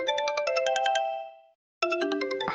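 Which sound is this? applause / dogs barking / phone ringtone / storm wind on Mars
phone ringtone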